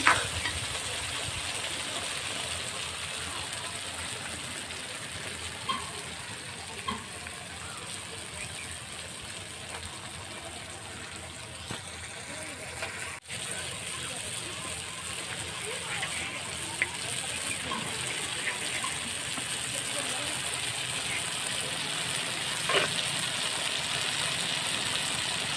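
Chicken fries with spices in a pan for Bengali kosha, a continuous soft sizzle and crackle held at a steady level, with occasional light clinks and scrapes near the start and toward the end.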